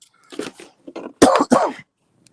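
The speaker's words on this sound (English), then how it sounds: "I can't even stop coughing." A person coughs in a short burst of several harsh, throaty coughs, close and loud, then falls silent.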